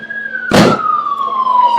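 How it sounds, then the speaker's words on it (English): Police vehicle siren wailing in a steady, slowly falling tone amid a chaotic scene, broken by a brief loud thump near the start. "I do hear a police vehicle."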